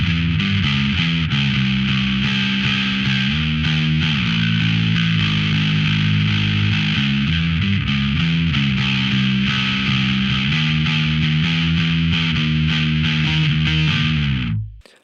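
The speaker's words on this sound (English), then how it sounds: "my first one is just my main distortion, which is just my B3K pedal by itself" A bass guitar plays a steady, thick riff through a B3K distortion pedal on the grunt setting with a little drive, a loud, gritty, sustained tone that cuts off abruptly at the end, with no talking.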